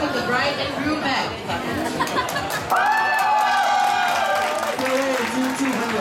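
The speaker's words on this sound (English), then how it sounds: "May we have a round of rousing and applause to welcome the bride and groom back." Wedding guests clap and cheer as the bride and groom return for the champagne pouring ceremony, a loud mass of applause with whoops and chatter swelling up mid-way, while an announcer's voice carries over the crowd.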